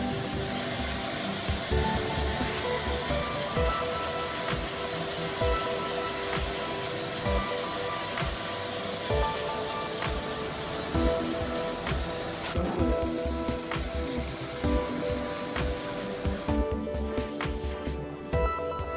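An electric machine roasting Turkish coffee beans gives a steady loud mechanical roar and whir, with faint irregular rattles and clicks running through it the whole time.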